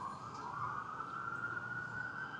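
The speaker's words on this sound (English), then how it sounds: "that's a lot of police sirens actually compared to what we usually hear." A police siren in downtown Los Angeles during a protest holds a fairly steady, faint tone at a distance over low street rumble.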